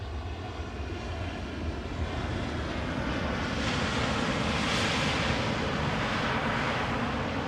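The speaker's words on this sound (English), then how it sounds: "Finnair A350, standard livery, flight time nearly 2 hours" A Finnair Airbus A350 in standard livery at Amsterdam Schiphol produces a steady, broad jet roar that swells slightly louder toward the end, heard alone with no voices.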